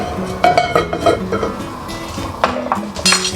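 A pan is set on a stove and oil poured in, making close metallic clanks and clinks of cookware at irregular intervals, with soft background sounds in between.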